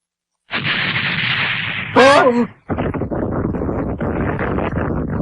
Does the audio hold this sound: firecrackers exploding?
yes